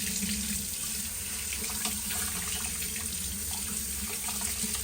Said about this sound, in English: So I just run it through the water.